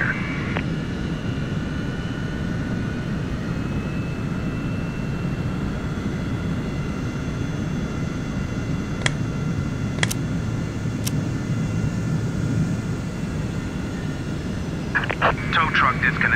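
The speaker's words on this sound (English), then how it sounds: "Cockpit to ground. We have a good engine start." Jet engines of a United Boeing 727-200 in the FSX flight simulator game rumble in a steady, loud drone throughout, with a few sharp clicks and a brief higher chirp near the end.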